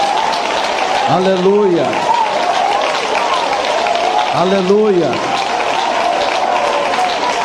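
A church congregation clapping hands together, a sustained dense applause-like clatter throughout, with a voice calling out twice over the clapping.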